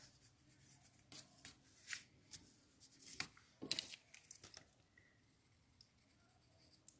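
Pencil lines on paper are rubbed out with an eraser during a drawing of Ariel, making quiet, close, repeated scrubbing strokes in irregular bursts that fade after a few seconds.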